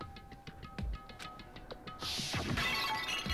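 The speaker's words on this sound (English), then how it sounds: "I grabbed the Monokuma bottle from the shelf and smashed it across her head." A Monokuma bottle in Danganronpa shatters loudly over someone's head, a sudden bright crash of breaking glass with scattering shards, following a stretch of quiet ticking game ambience.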